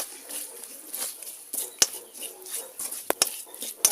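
A spoon works chili powder through cucumber pickle in a pot, producing quiet scraping and several sharp metallic clinks against the vessel's side.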